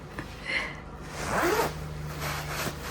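A winter jacket's zipper is pulled up close by, one rasping zip that rises and then fades into quieter cloth rustling, with no talking.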